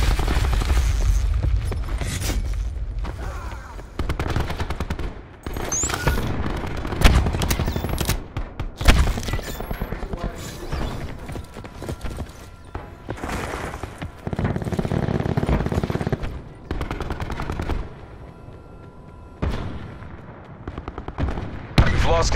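Gunfire rattles through a team deathmatch in the video game Call of Duty: Black Ops 4, with repeated bursts of automatic fire and heavy booms spread across the clip, loud and close, separated by brief quieter gaps.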